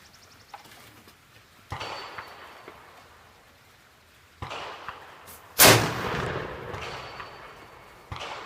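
A .50 caliber matchlock musket fires one loud, sharp, close blast outdoors about two-thirds of the way in, with a long rumbling tail. Fainter thumps and knocks come before and after it.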